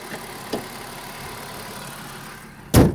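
A car engine idles at a steady low hum for a few seconds, quiet and even, with one soft knock early on and a sharp loud clunk near the end.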